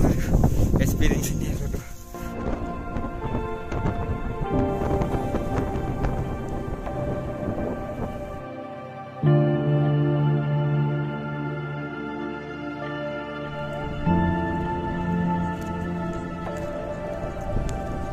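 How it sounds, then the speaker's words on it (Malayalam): Heavy rain falls on a misty hillside campsite at Kakkadampoyil, a dense steady hiss and patter of drops on tent and ground, loud and close, with occasional low rumbles. "കോട ഇങ്ങനെ അടിച്ചു കയറുമ്പോ എന്നെ നല്ല മഴ പെയ്യുന്നുണ്ട്"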